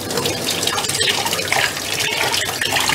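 Tap water runs steadily into a sink while strawberries are washed in a kitchen, a loud, close, continuous splashing hiss with no talk.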